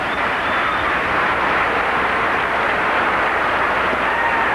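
A Cubs baseball stadium crowd against the Pirates sends up a steady, broad roar of voices that holds at an even level for the whole stretch, with no announcer talking over it.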